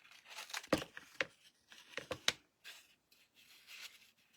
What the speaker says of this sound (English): So I'm just going to cut this apart.